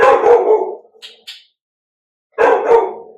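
Indoor dog barking in two loud, close bursts of several rough barks, a brief yelp between them and a silent pause before the second burst.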